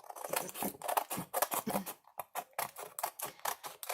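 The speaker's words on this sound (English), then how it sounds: "I'm going to quickly just cut off some of the bits that are on the side" Scissors snip through scraps of glued collage paper trimmed off the edges of a sheet, a quick run of close, crisp cuts with short rustling pauses.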